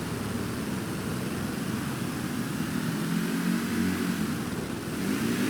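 A boat engine runs in a video game about repairing a sunken ship, giving a continuous low droning hum with a slight rise in the middle, heard alone at moderate volume.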